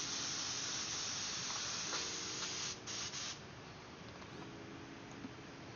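An airbrush sprays paint onto shirts with a steady, close hiss that runs almost unbroken, easing off briefly near the middle before continuing more softly.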